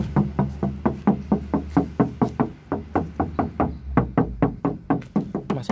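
Knuckles tap along the rear steel body panel of a 1994 Daihatsu Taft GT 4x4, producing a long run of rapid, even metallic knocks, loud and close, with no speech.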